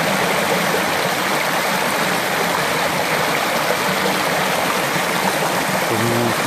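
Water flows steadily in a stream as a bag is dipped in to fill it, a loud, close, continuous rushing and gurgling with no voices.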